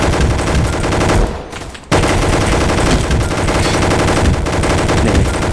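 Rapid automatic gunfire from the Roblox game Gunfight Arena rattles loudly in sustained bursts, with a brief pause before firing resumes.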